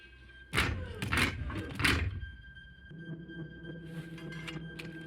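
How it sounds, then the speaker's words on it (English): Heavy blast doors from The Mandalorian slide shut in three loud whooshing, grinding surges, followed by a low mechanical hum as they seal. "Seal the blast doors."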